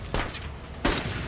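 Sniper gunfire in the war film Hacksaw Ridge: two sharp, loud shots about 0.7 seconds apart, each with a booming, reverberant tail.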